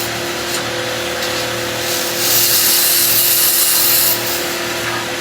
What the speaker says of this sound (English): I just want to do a couple of finishing cuts with my gouge first